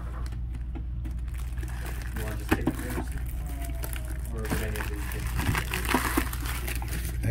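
Plastic packaging on a Pokemon lunch box crinkles and rustles as it is torn open by hand, with a few sharp crackles, fairly close and quiet over a steady low background hum.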